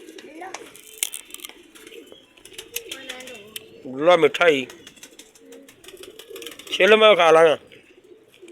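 A caught wild pigeon coos twice, each a short rolling burst of throaty calls heard close up, while a person talks quietly nearby.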